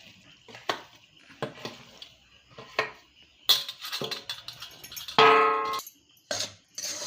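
Barnyard millet (bhagar) flour being stirred into boiling water in a metal pot, with a spoon clinking and scraping against the pot in irregular knocks and a louder rattling scrape near the end.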